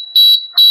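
Two shrill electronic beeps from the earthquake alarm of a school science exhibition project: a high, steady piercing tone pulses twice, loud and close.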